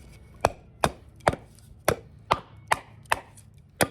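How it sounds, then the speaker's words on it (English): Sharp, evenly spaced chopping strikes, about nine machete blows into wood in steady rhythm, close and crisp with no talking. "what it's best at is chopping"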